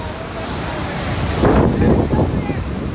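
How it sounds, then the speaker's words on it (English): Powerful ocean waves breaking on the sand at Huntington Beach, a steady rush of surf mixed with wind buffeting the microphone, swelling into a louder crash midway. "Waves are hitting hard right here, so the kids are having a great time."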